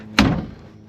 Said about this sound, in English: Let me get this door closed here.